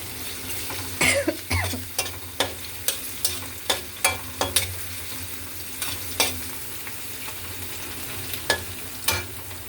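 Onions frying in a pan with a constant low sizzle, punctuated by a regular series of spatula knocks and scrapes, plus a cough or throat clearing near the start.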